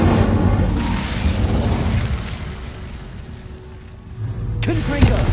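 In the video game Hogwarts Legacy, an Incendio fire spell goes off with a rumbling, fiery whoosh that swells and fades, then a second burst near the end, heard close and loud.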